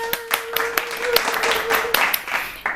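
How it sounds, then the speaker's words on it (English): A handful of sharp, uneven hand claps sound close by, with a sustained voice-like tone and some talk-like sound running beneath them. "Applause!"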